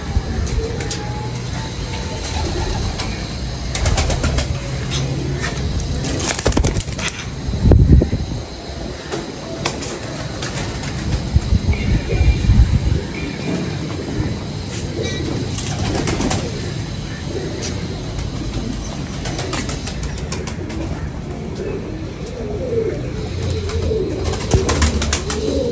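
Pigeons coo in low, throaty calls, partly buried under steady, loud rumbling background noise throughout.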